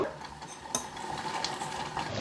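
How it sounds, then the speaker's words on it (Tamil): A spoon stirs drumstick leaves into simmering sambar in a pot, giving soft scraping and swishing with a light clink near the middle, close and fairly quiet, with no talking. "இப்போ கிளறி கொடுங்க"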